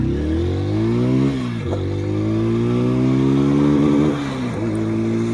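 A 2025 TVS Apache RTR 160 4V motorcycle in Rain mode revs hard toward top speed, its close, loud engine whine climbing steadily, dropping sharply at two gear shifts, then rising again.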